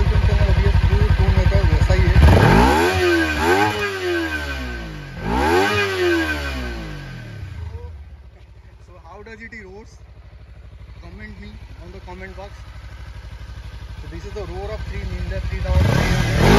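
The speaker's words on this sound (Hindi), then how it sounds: "अभी आपको इसका एग्जस्ट नोट सुनाता हूँ, let's begin with the exhaust note." Kawasaki Ninja 300 BS6 twin-cylinder motorcycle, dual-channel ABS model, revved hard twice with rising and falling exhaust roars, then idling low before a final sharp blip, loud and close.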